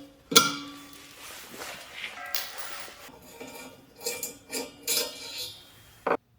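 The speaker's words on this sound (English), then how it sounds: "we're going to take out the screws and remove this plastic printed part." Screws being removed from a 3D-printed plastic manifold on an outdoor stove, heard as a series of metallic clinks, taps and scrapes of tool and parts, ending with a sharp knock.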